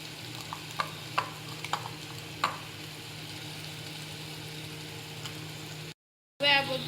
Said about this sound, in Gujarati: હવે આ બધું સરસ રીતે મિક્સ કરવાનું છે.